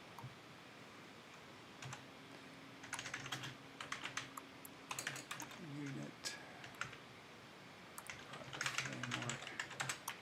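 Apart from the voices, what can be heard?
typing on a computer keyboard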